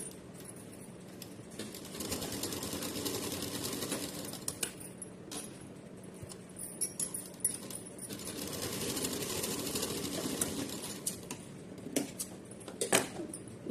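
A sewing machine stitches a tiny choli for a Laddu Gopal deity outfit, producing a soft, uneven run of whirring and clattering with scattered ticks and rattles over a hushed room.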